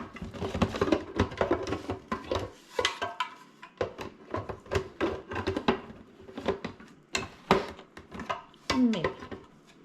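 Pizza dough for a Detroit-style pizza being mixed with sugar and kosher salt, heard as close, irregular clinks and scrapes of a utensil against a bowl, repeating steadily with no voices.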